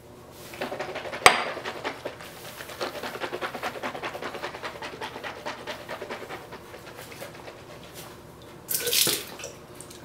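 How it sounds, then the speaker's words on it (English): Swishing of a hydrogen peroxide and water solution rinsed around the mouth, a steady wet churning with faint gurgles over about ten seconds, loudest near the start and end, with no talking. "you rinse your mouth with it"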